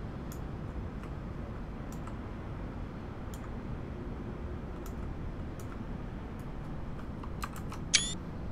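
Computer keyboard typing during a live train-simulator stream, scattered light key clicks over a steady hiss, with a quick burst of clicks near the end.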